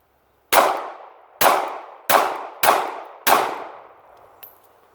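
Five sharp shots from a Kimber Solo 9mm pistol firing full metal jacket rounds in rapid fire ring out in quick, evenly spaced succession, each with a short decaying echo, with a faint click afterward.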